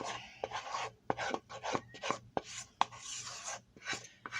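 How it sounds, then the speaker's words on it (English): Rice Krispies are mixed into melted marshmallow in a non-stick pan, heard as rhythmic crackly scraping strokes, each a short rasping sweep, close and fairly loud with no voices. "in with the Rice Krispies. Just gonna dump it right in there. Gotta get all of it out."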